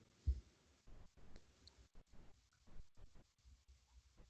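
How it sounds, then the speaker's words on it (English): Keyboard typing during an online group session, a quiet run of irregular clicks and taps at low level, with no talk over them. "typing something right now"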